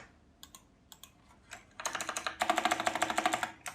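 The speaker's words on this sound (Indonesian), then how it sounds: "Aku udah lama gak pakai keyboard mechanical ya guys ya" Typing on a mechanical keyboard, sparse clicky keystrokes at first, then a quick dense run of loud, close clacking during a coding session.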